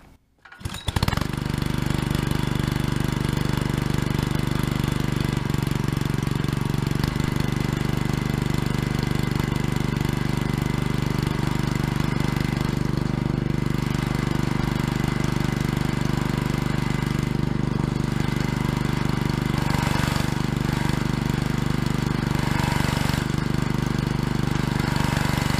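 A small Honda GC160 gasoline engine, just fitted with a new carburetor and soaked with gasoline, sputters to life and keeps running steadily at a loud, rough idle for the whole stretch.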